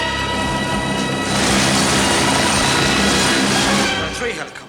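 Three helicopters landing in a 1982 London siege action film, a loud, steady rotor and engine roar that swells and holds close, then fades slightly at the end.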